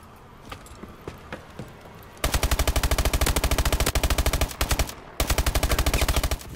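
Automatic gunfire from a weapon in the Call of Duty video game: sparse scattered shots, then loud rapid sustained bursts with a short pause before firing resumes.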